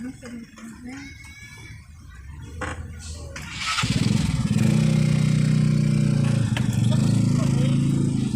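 A motorcycle engine starts up and idles loudly nearby on a street in Poblacion Talisay, Cebu, a steady low rumble that persists with chatter and street noise around it.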